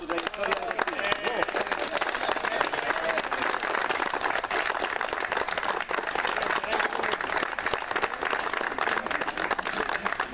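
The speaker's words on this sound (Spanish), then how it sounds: "Por eso los invito a que le demos un fuerte aplauso a don José Hermida por su trayectoria." A crowd applauds at a historic football association's year-end event in Renca, sustained, thick clapping from many people that runs evenly for about ten seconds with a busy, roomy texture.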